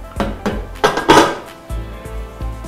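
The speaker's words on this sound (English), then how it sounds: "So what I'm going to do is nitachukua pressure cooker yangu" A clean pressure cooker is picked up and handled in a kitchen, its metal body and lid giving several loud close clanks and knocks in quick succession.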